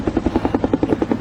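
A firefighting helicopter over burning woods beats loudly and close, its rotor thumping in a fast, even pulse of about ten blade chops per second.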